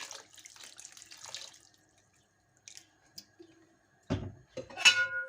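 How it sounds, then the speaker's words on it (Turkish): Hot water poured into a pot of potatoes on the stove, a short splashing burst near the end after quiet clinks and faint kitchen sounds. "Üzerine geçecek kadar sıcak su ekliyorum."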